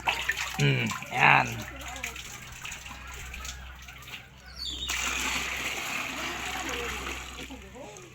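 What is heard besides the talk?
scooping water from a village well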